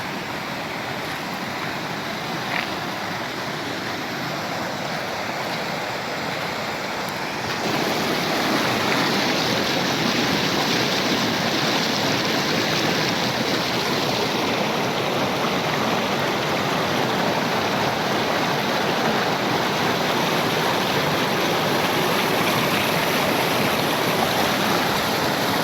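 Belogorka waterfall in Kyrgyzstan in spring, a steady broadband roar of rushing water that swells louder after the first few seconds and holds constant with no voices.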